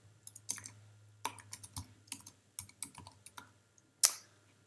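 Keys clatter on a computer keyboard as a blog post title is typed, in short irregular bursts of close, crisp clicks with pauses between and one louder final tap, and no speech.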